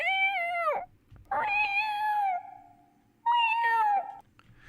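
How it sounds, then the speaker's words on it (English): A cat meows three times in a row, long drawn-out cries with a clear pitch and a pause between each one, loud and close with no talking around them. "Why does it sound like a cat?"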